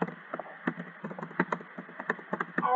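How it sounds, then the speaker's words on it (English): Keys tapped on a computer keyboard for an online game, a quick irregular run of close, crisp clicks with short pauses, ending in a slightly denser burst. "I'm typing something."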